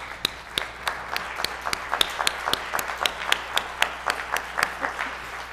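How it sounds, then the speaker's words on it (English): An audience at a women's forum gives a standing round of applause, crisp claps spread evenly across the room, moderately loud and sustained, with no speech over it. "So I would like for all of you just to stand and give them a round of applause."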